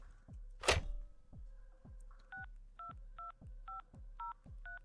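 Telephone dialing to hotel reception in the indie horror game Room 202: a loud thud first, then a steady run of about seven dial tones beeping evenly over a low rhythmic pulse, with no talking.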